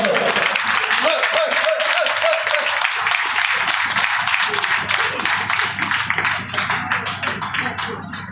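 Loud crowd applause at a retirement ceremony for a state transport corporation's Greater Hyderabad zone, dense sustained clapping throughout with a speaker's voice over a loudspeaker early on, tapering slightly at the end.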